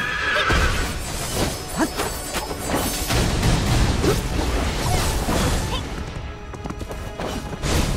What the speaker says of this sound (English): Back off, horsey.